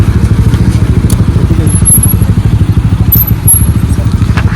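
A motorcycle ridden along a road, its engine putting out a loud, steady, rapidly pulsing drone close by throughout, with faint voices now and then.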